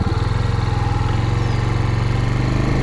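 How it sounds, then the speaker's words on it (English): A Suzuki TU250X single-cylinder motorcycle pulls away slowly in first gear, its engine thumping in a steady, loud, close rhythm with no voices. "my clutch is now totally out, and we are now just cruising in first gear"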